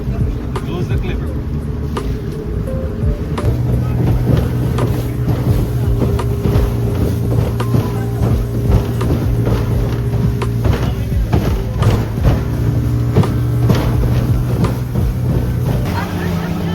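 A boat engine drones steadily on the water on a trip to Essequibo, a continuous low hum with wind noise running throughout, moderately loud and near.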